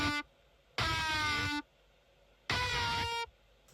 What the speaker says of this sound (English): these high-pitched noises or tones with these pitch bands